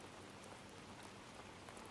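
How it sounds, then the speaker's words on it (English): Steady rain falls in a constant dense hiss of droplets, even and unbroken throughout, with no voices. "these rain sounds suck ass"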